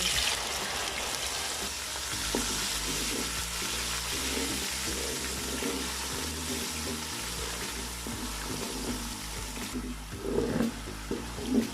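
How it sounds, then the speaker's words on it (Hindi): A steady, dense sizzle of onion paste frying in hot oil fills the clip, loud and close, with faint clinks and stirring near the end. "प्याज का पेस्ट डालेंगे।"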